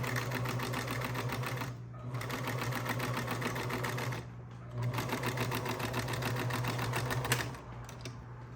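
A sewing machine stitches fabric for an island top in a close, steady hum, pausing briefly twice between bursts of stitching, with no voice.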